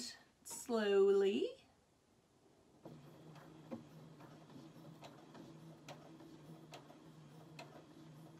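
A domestic sewing machine stitching children's pajama pants runs at a slow, steady pace, its soft mechanical ticking and whirring close by after a short spoken line from an adult.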